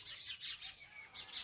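A pet bird at a rural family home chirps in short repeated bursts of high tweets, fairly close and clear, with no talking.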